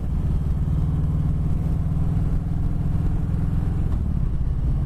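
A 2020 Harley Davidson Sport Glide motorcycle rumbles steadily while riding, a loud, continuous low engine drone with a throbbing pulse and some clatter, no talk.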